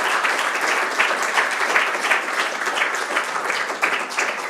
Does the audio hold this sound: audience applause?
yes